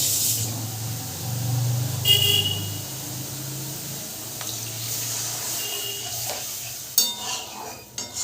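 Masala spice paste frying and being stirred in a pan, a steady sizzle with scraping stirs and a few sharper clinks of the spoon near the end, heard up close.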